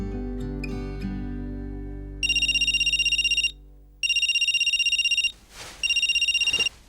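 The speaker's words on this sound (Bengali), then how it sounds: "ফোন বেজে উঠল" A mobile phone ringtone rings loudly in repeated electronic bursts, three rings separated by short pauses, heard alone with no talking.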